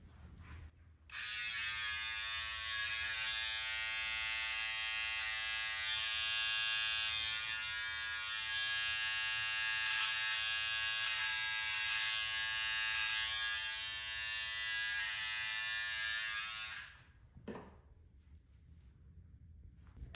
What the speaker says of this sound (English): That is how you use your Wahl trimmer to even out and trim your sideburns.